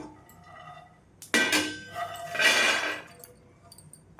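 Roasted peanuts are tipped onto a plate, a brief rattling clatter of nuts against the dish, with two close bursts of scattering and clinking, no talking.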